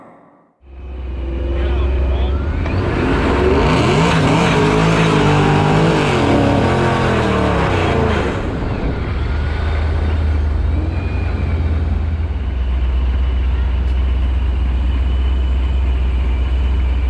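A ProCharged 5.7 Hemi R/T launches in a street race with a loud, rising engine roar that climbs through the gears, then settles into a lower, steady drone as the car pulls away.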